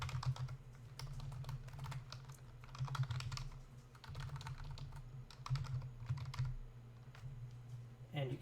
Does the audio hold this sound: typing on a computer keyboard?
yes